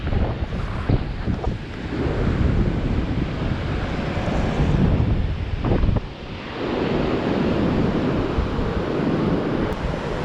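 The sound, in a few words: strong wind at a beach north of San Francisco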